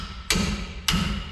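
Two sharp hammer blows land on Loctite-secured brake caliper bracket bolts of a 2003 GMC Sierra during a dual rear caliper conversion, evenly spaced, close and loud, each ringing briefly over a low steady background hum.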